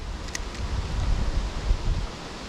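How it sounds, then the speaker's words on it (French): Strong gusty wind roars and buffets steadily, with low rumbling surges and faint rustling throughout. "Maintenant il y a du vent à bloc."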